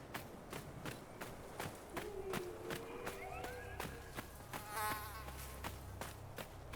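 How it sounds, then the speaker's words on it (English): Insect buzzing in the game Dragon Age: Inquisition, a faint wavering drone that rises and falls over a steady series of soft footsteps. "And a bee."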